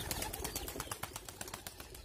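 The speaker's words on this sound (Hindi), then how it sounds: "ये सारे कबूतर भी आ गए नीचे" Pigeons flutter down close by, with quick irregular wingbeats and soft flapping bursts, faint and without voices.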